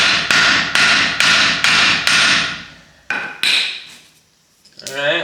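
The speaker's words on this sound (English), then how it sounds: "hit around the bleeder valve, sometimes helps breaking loose the rust and stuff" Hammer blows ring out around a rusty bleeder valve on a 1978 International Scout, five quick, loud metallic strikes in steady rhythm, then a few scattered knocks and a brief clatter near the end.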